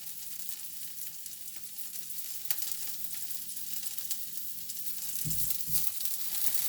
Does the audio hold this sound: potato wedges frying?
yes